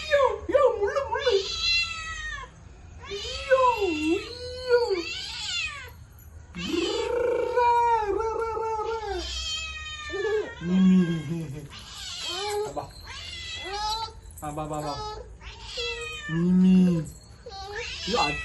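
A cat meows repeatedly at close range, with varied drawn-out and rising cries, while people talk softly around it.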